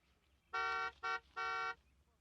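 A car horn honks three times in quick succession, short blasts with a brief gap, heard against quiet background.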